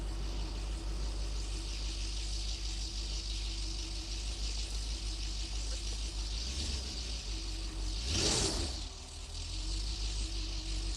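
A BMW Alpina B10 V8 idles steadily after a cold start, a constant low engine drone with a brief swell of noise partway through, heard without any talk.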